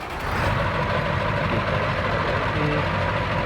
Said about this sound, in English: this 2006 F-250 here that does have a 6-litre power stroke engine with some decent sounds